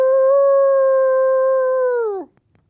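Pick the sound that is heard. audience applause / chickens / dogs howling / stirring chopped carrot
dogs howling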